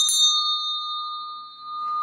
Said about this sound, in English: ring the meta bell